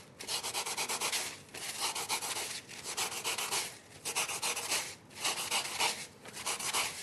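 Sandpaper rubbing along the edges of a handmade model, a steady rasping scrape in repeated strokes with brief pauses between passes, close and alone.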